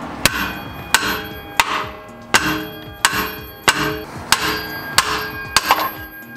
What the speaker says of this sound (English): let's take a hammer and smack it on the bottom of the shock to get it off